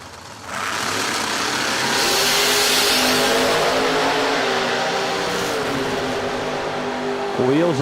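Camaro and Nova drag race cars launching at a drag racing event, a loud sustained roar that builds quickly then holds with shifting pitch before a sweep near the end, with an announcer talking over it.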